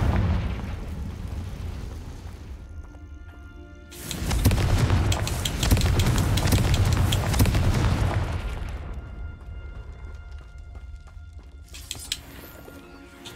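The Confringo fire-blast spell goes off in Hogwarts Legacy as a loud, sustained burst of explosive roar that swells for several seconds and then fades into a rumbling tail, with smaller pops afterward.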